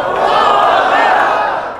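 Audience at a religious lecture breaking into loud, continuous applause and cheering, a dense crowd roar that fades slightly at the end.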